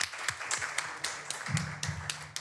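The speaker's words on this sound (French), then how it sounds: "Est-ce qu'on peut applaudir pour elle, s'il vous plaît?" A small audience claps for a debate speaker, a thin, uneven patter of separate hand claps with a low hum underneath, fairly quiet and brief.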